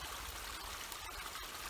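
A creek flows through a snowy winter landscape, a steady, even rush and trickle of water close by with no pauses, alone and unbroken by voices.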